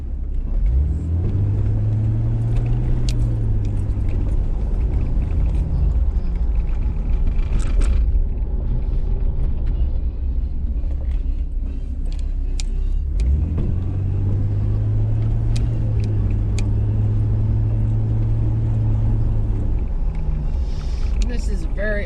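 An old Jeep driving along a road through an old city, a steady loud engine rumble with road noise throughout and two rising gear-change surges, without any talking.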